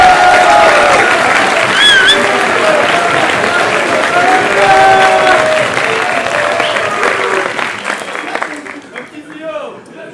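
An audience applauds loudly as a band arrives on stage, with dense clapping mixed with crowd noise and a few cheers that gradually thins and fades toward the end.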